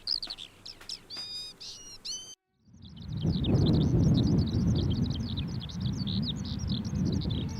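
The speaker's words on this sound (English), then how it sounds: "Skylarks are born to sing. They sing on the ground and they sing in the sky." A skylark sings a continuous, high, rapid warbling trill over a loud, low rumbling wind on the Mendip Hills, England, after a brief burst of earlier chirps.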